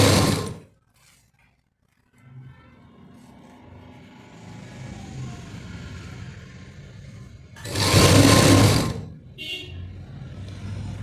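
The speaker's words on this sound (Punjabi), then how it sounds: "ਐਵੇਂ ਆਪਾਂ ਨਾਲ ਜੋੜਦੇ ਜੋੜਦੇ ਸਿਉਣ ਮਾਰਦੇ ਜਾਵਾਂਗੇ" A sewing machine stitches a sleeve onto a garment, running in a steady low mechanical drone for several seconds after a brief quiet pause, with a louder burst of motor noise near the end.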